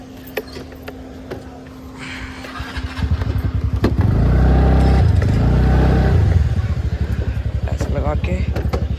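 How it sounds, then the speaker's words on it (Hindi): A scooter's engine starts with a short mechanical crank, then catches and runs in a loud, close, rapid putter that continues steadily to the end. "स्कूटी ऑन कर लो।"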